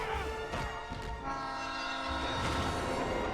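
A train from a Spider-Man 3 movie scene rumbles loudly and continuously, with a blaring horn-like tone and rattling wagons.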